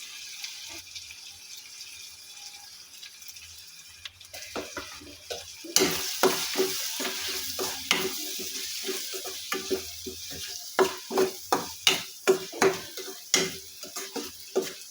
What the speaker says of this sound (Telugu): వేసుకొని కలుపుకోవాలి.